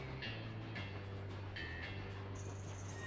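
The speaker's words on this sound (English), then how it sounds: "Is it like a prison train?" A train rolls along in The Escapists 2 video game, a steady low rumble with faint rhythmic clicks and squeaks riding over it, continuous and moderately quiet throughout.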